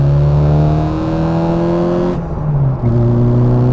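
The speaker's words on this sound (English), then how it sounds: "Did you hear that exhaust note?" A classic Mini Cooper fitted with a John Cooper Works conversion kit revs hard and loud through its exhaust with a rising harmonic whine, breaks briefly for a gear change, then pulls again.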